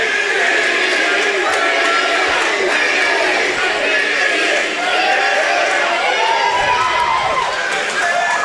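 A loud, dense pro wrestling arena crowd roars and chants without pause, voices blending into a constant wall of cheering and shouting, with commentary barely distinguishable under the din.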